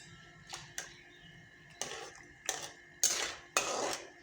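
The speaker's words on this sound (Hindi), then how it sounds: "आपने ये चम्मच चलाना है" A metal spoon clinks against a pot of mutton white karahi, six sharp, separate knocks spaced irregularly over a quiet background.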